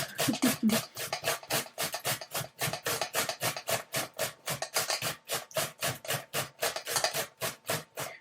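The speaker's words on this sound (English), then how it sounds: "First thing you do, you grate your cucumber." Cucumber for tzatziki is rubbed against a grater in a steady run of quick rasping strokes, close and fairly loud, with no talk over it.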